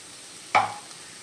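Crushed coconut and green chili drop into a pan with a single short sizzling hiss and stir that fades within a moment, alone and close.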